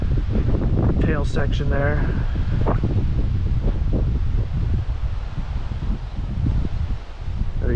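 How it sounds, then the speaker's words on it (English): Strong, steady wind roars and buffets around a DJI Mini 3 Pro drone in flight, loud and continuous, with someone talking over it. "Fighting that wind"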